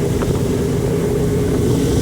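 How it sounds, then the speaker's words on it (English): The outboard motor of a 2019 Tahoe 2150 center console deck boat runs under throttle on open water as a loud, continuous droning roar mixed with rushing wind and water, with no one talking. "Show you the motor running under a throttle here right now."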